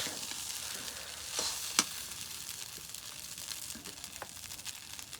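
Cooked rice frying in a pan makes a continuous soft sizzle with occasional scraping clicks of stirring, moderately close and steady throughout, with no talking.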